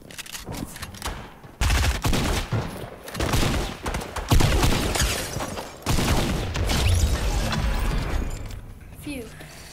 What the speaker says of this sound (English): They're just in a crazy shotgun fire